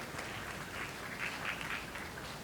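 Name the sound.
applause for the mother of the groom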